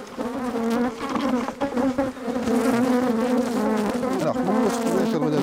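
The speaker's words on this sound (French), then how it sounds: "donc un cadre d'abeille, hop, que je vais secouer ici." Honeybees from a frame being shaken over a hive hum in a dense, loud, continuous buzz with fluctuating pitch, close and steady, without talk.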